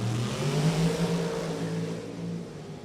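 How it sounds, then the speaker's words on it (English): Loud drag racing cars roar side by side off the line at Lebanon Valley Dragway during an NHRA event, a heavy sustained engine blast that swells and then slowly fades. "You were supposed to warn me about those loud cars."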